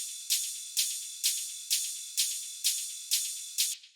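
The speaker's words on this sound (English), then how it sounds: "we have these sort of like hi-hats slash shakers slash ride things" Layered hi-hat, shaker and ride samples in an ethereal techno track, eight crisp bright hits on an even pulse, each with a short sizzling decay, alone with no other instruments.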